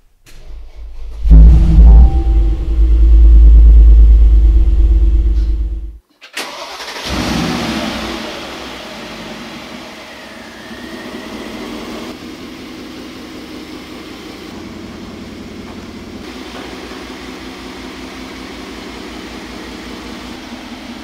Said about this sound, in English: So let's listen to the sound of this G500.